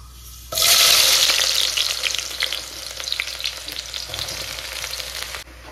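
Fenugreek seeds and onion hit hot oil with a sudden loud sizzle that then settles into a steady, crackling fry, close up, with occasional stirring and no voices, in a home kitchen while spicy dried-fish curry is cooked.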